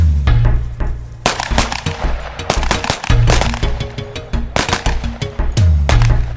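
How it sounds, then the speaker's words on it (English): Loud, close gunshots fired during defensive tactics training, a rapid run of sharp reports, some in quick pairs, with short gaps between volleys. "give me 2 good shots through the center"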